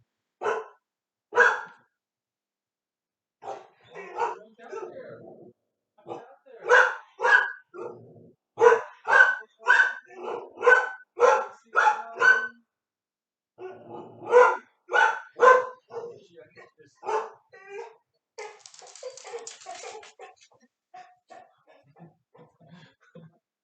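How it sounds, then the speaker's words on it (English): Repeated sharp barks from a dog outside come in bursts, fairly loud and close, with short pauses between volleys and some quieter whimpering noises near the end. "there's a woman walking her dog outside"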